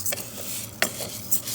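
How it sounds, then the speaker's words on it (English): Faint frying sizzle with a soft hiss as rice fries in a little oil, broken by a few light scraping clicks of a utensil stirring in the pan. "I'm going to go ahead and fry it with a little bit of oil."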